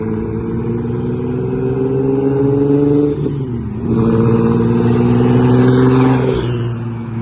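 A Nissan 370Z tuned to over 1000 wheel horsepower revs hard, its loud, droning engine rising in pitch, dipping briefly and surging again up close, sustained without any talk.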